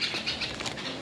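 Pigeons take off from a farm field, a short burst of soft, fluttering wingbeats with a faint chirp, close by and alone.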